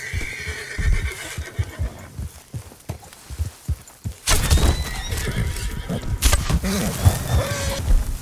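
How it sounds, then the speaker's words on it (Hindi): Horse hooves clip-clop in Red Dead Redemption 2, first as scattered close thuds, then a louder stretch with a whinny and rustling movement, the hoofbeats irregular and near. "उस घोड़े को पकड़ते हैं गाइस"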